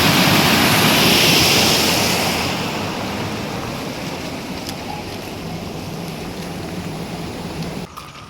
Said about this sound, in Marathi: हा बांध म्हणजे ओव्हरफ्लो झाला सगळं शेतात पाणी